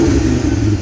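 Volkswagen Golf GTI with a 2.3L VR5 engine revving, a brief loud throaty burst with rough low-pitched pulsing, no talk over it.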